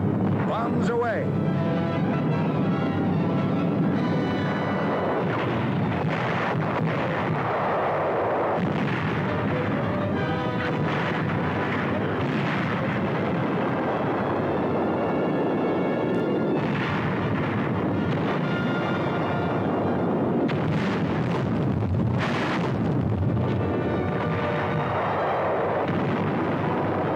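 Bombs dropped from a B-24 bomber bursting in a dense, continuous rumble of explosions and artillery-like blasts, loud and sustained throughout with wind noise, while a voice speaks over it.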